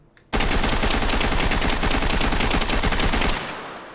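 AK rifle emptied on full auto in the VR shooter H3VR: one unbroken, loud rapid-fire burst lasting about three seconds after a brief quiet start, then the echo fading out once the magazine runs dry.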